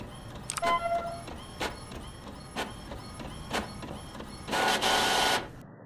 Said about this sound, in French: Oh là là, la vieille imprimante